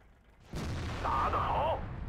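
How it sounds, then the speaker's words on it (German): A tank cannon shot from a WZ-120 in World of Tanks: a sudden loud boom bursts out at once and rolls on as a sustained rumble, with a tonal ring or whine layered over the decaying blast. "Das war ein schöner Schuss."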